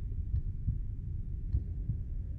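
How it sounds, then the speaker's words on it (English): A low, muffled heartbeat thumps steadily through the horror video game Fatal Midnight, a few soft double beats repeating under a constant dull hum, with no talking. "By my heartbeat."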